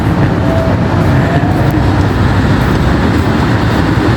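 Steady low rumble of an electric train passing over a canal in Bangkok, continuous and fairly loud throughout with no talking.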